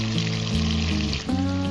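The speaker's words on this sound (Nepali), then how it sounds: "हामीले माछालाई फ्राईमा राखिसकेका छौं।" Fish fries in a pan with a steady, close sizzling hiss while sustained musical tones play underneath.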